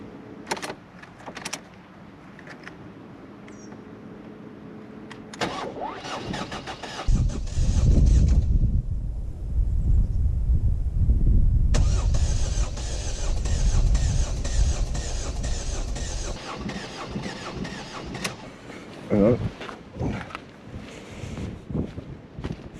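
A Ford Fiesta diesel engine, worked on for injector seals and glow plugs, cranks briefly with a whirring starter, then starts into a loud, rough idle that runs steadily before easing off, with some clicks and handling noises nearby.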